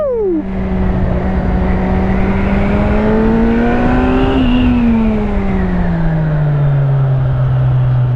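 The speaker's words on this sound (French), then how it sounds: "Et le son à l'échappement, oh là là là là" Kawasaki Z1000SX 2017 motorcycle exhaust revving loudly and close, a steady engine drone that climbs in pitch, peaks, then drops back as the revs fall.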